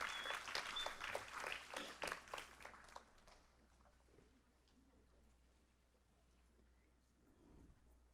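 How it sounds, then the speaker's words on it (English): An audience at a school board meeting claps loudly for about three seconds, then the applause fades into quiet room murmur. "Let's give Yoselin a round of applause for her involvement in student affairs."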